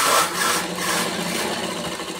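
A sewing machine stitching the sleeve seam of a nightie runs steadily and fairly loud, a continuous whirring hum with a brief louder start and no speech over it.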